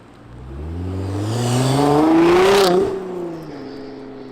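Nissan GT-R R35 fitted with an ArmyTrix valvetronic exhaust, revving close by: the engine note climbs smoothly to a loud peak, cracks, then drops back to idle.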